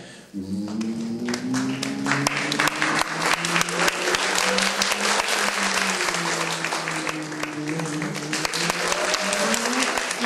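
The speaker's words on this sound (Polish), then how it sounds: "a wtedy coraz szybciej, coraz głośniej klaszczecie" Cabaret audience clapping steadily and densely, the applause rising in speed and volume throughout, with a voice running underneath the loud clapping.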